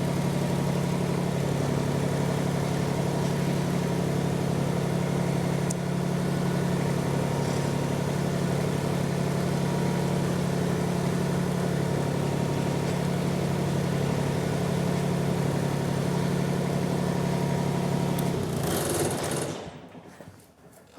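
A subcompact tractor engine runs at a steady idle nearby, a constant mechanical drone with a fine rapid rattle, cutting off near the end.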